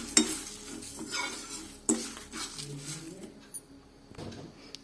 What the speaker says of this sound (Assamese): আৰু কেইটামান শুকান জলকীয়া এইখিনি গোটেইখিনি একেলগে এতিয়া ভাজি ল'ম